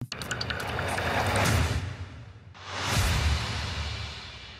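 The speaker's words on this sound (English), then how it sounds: "you can already hear there's all these explosions and booms and slaps and swooshes and plops" Two long swooshes in pop song production: each is a broad, airy whoosh that swells and then fades, the second following shortly after the first, loud and close with no voices.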